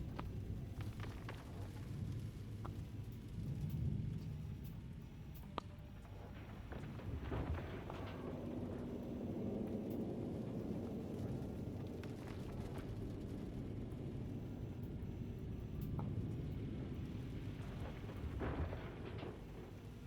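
Steady rain and low rolling thunder in Gold Mining Simulator, a continuous dense wash of rainfall with deeper rumbles swelling and fading throughout, no talking.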